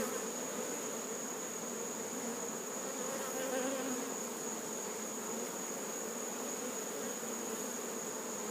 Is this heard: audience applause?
no